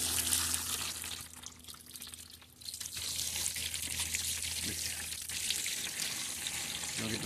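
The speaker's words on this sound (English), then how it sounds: "you run some water over there, some of that good God water" Tap water runs steadily over fish being cleaned and butterflied, a continuous close splashing wash with a brief lull partway through, no talking.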